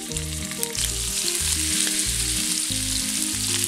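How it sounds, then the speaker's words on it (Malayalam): Sardines sizzle in coconut oil with curry leaves, a loud, continuous bright frying crackle that holds steady throughout with no talk, over a low rhythmic hum. "ഇനി ഇത് ഫ്രൈ ചെയ്യുമ്പോൾ നമ്മൾ സാധാരണ മീൻ ഫ്രൈ ചെയ്യുന്ന പോലെ അത്രയും മൂക്കെ വറുത്തെടുക്കണ്ട"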